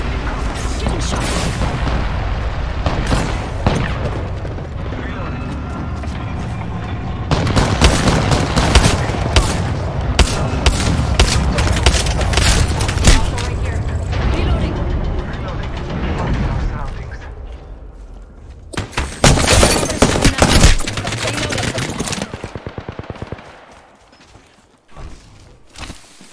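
Heavy gunfire in the Apex Legends video game, rapid loud bursts and booming shots in clusters with brief lulls, fading out near the end, with a voice speaking over parts of it.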